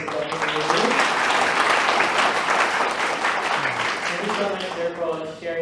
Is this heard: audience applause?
yes